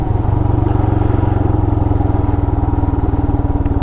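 A Royal Enfield Himalayan motorcycle rides off road through Jefferson National Forest, its single-cylinder engine thumping loud and close in a fast, even rhythm with rattling clatter over the terrain.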